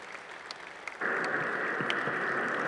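A lecture audience at the FIL Minería 2019 book fair breaks into steady applause after a quiet moment, with the clapping continuing dense and even to the end.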